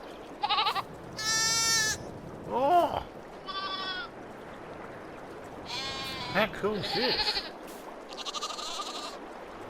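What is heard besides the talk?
lambs and goats bleating in Farming Simulator 22 video game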